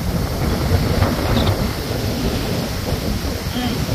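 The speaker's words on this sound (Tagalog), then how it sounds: "At tingnan mo, sobra ang lakas ng ulan." Heavy rain pouring down at Boracay beach, a loud steady hiss and rumble of downpour mixed with wind buffeting the microphone and surf, continuous throughout with faint background voices.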